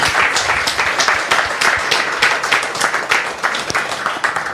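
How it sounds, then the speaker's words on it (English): Audience applause at a Janmashtami celebration, a dense steady wash of many hands clapping that fills the whole stretch at fairly close range with no voices over it. "a big round of applause"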